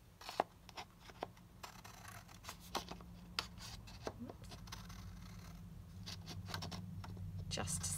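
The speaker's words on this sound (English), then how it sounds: "So I'm just going to cut out this one." Scissors cut out a paper pocket for a junk journal, with a series of faint close snips and paper rustles over a low background hum.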